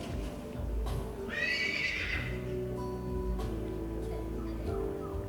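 A mare neighs loudly at a horse-breeding farm open house, one drawn-out whinny in the middle, close by over a steady low background rumble.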